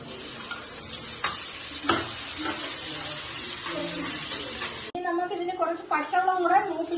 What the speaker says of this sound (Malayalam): അതിനുവേണ്ടി നമുക്ക് സവാള വറുക്കാം